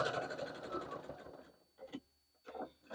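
A sewing machine stitches fabric for a project bag with a busy, rapid run of stitches that stops, followed by two short stitching bursts separated by near-quiet.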